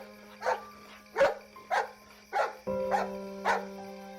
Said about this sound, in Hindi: मलबे के एक कोने में लेटा हुआ कुत्ता गुर्रा कर उठा और जोर जोर से भौंकने लगा।